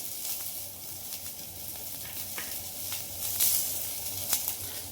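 Ingredients frying in a pan with fresh ginger added, a steady soft sizzle with occasional brief crackles and stirring scrapes, close and continuous without talk.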